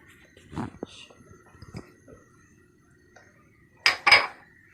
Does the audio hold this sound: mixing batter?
yes